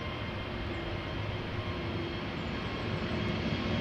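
An Air Transat A321neo airliner at Amsterdam Schiphol gives a steady, broad jet roar at a distance, continuous and even with no voices.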